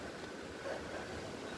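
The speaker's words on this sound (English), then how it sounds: "This wind is really kicking up" Strong wind blows across an outdoor garden on an evening ahead of a possible frost, making a steady broadband rush of microphone buffeting that stays fairly faint and even throughout.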